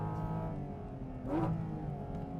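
A Porsche 718 Cayman GT4 RS engine revs hard, its pitch climbing sharply in a loud surge toward the 9,000 RPM redline before settling back into a steady drone.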